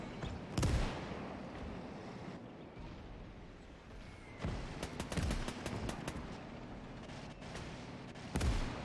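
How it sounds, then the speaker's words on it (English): Mortar rounds fall during a simulated 1945 Iwo Jima invasion game: three heavy, booming blasts about four seconds apart, each rolling into a rumbling tail over steady battlefield noise. "Looks like mortar fire still coming from the hills"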